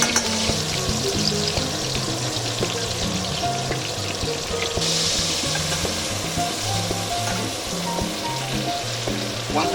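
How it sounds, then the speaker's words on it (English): Butter melts and fries in a pan alongside steak with garlic and fresh thyme, giving a steady, close, continuous sizzle throughout with no talking. "Once the butter is already melted, you start basting."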